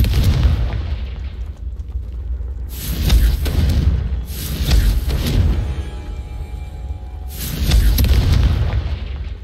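Explosion spells going off in Hogwarts Legacy, four heavy booming blasts with deep rumbling tails, loud and close, spaced a couple of seconds apart, with no voices.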